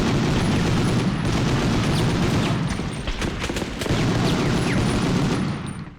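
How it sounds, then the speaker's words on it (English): Dense, continuous automatic gunfire from a full-auto .30-06 in Medal of Honor, loud and punchy, with rapid overlapping shots and heavy booms filling the whole stretch without pause. "made the gunfire in this game top tier"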